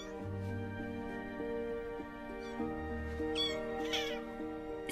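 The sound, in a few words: kitten meowing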